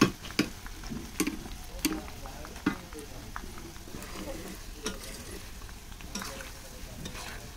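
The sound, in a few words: frying sev bhaja, gram flour snack, in oil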